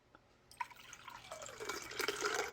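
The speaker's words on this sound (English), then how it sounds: "Your brain can identify cold and hot water just by hearing it." Cold water pouring steadily, starting after a brief silence and swelling from a light trickle into a fuller, louder splashing stream over about two seconds, with no voices.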